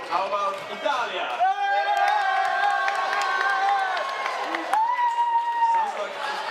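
Crowd at a Rubik's Cube European Championship cheering for Italy before a France versus Italy match, a sustained loud roar of voices with shouts and chanting tones rising and falling over several seconds.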